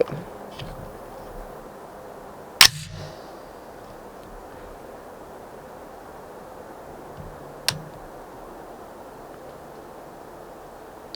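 A single sharp rifle shot rings out at night toward a pop plate target 50 yards away. It is a sudden loud crack against quiet background hiss, followed seconds later by a fainter short click.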